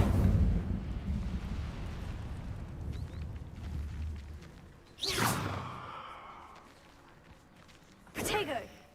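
An Incendio fire spell cast in Hogwarts Legacy: two sharp whooshing blasts, one midway and one near the end, over a low rumbling game backdrop with a voice present.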